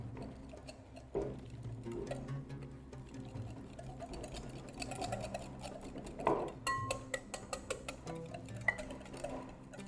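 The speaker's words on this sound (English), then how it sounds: "You have to whisk it well in order to remove any lumps." A whisk beating a flour and water mixture for Moroccan vegetarian harira, a faint, quick run of rhythmic ticking strokes close by that grows busier toward the end, with no talk.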